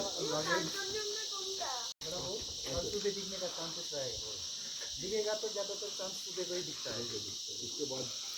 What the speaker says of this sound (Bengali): সবসময় দেখবো একটা শিশি আওয়াজ হচ্ছে সেটা কিন্তু ঝিঝি পোকা ডাকছে